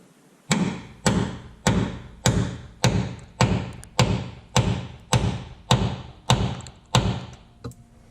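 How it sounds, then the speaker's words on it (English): Steady metallic taps from a small hammer on rusty truck parts while fitting new shocks, about a dozen evenly spaced blows, each sharp and close with a brief ringing tail. "Get a little mini hammer here."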